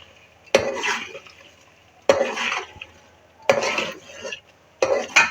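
A utensil scrapes and stirs ghee into Afghani egg gravy in a pan, giving four separate close, soft scraping strokes with short quiet gaps between them.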